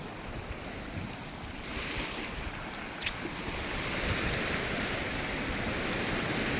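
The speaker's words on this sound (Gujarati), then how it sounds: "દરિયો ઘૂઘવાટા મારે છે" Sea waves roar against the Ratneshwar shore in a continuous low wash of surf mixed with wind noise. The sound grows slightly stronger toward the end, with no voices.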